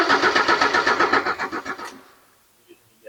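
A 1979 Porsche 924 starter motor, switched on by hand, cranks the engine in a fast, even chug for about two seconds and then stops, with a few faint knocks afterward.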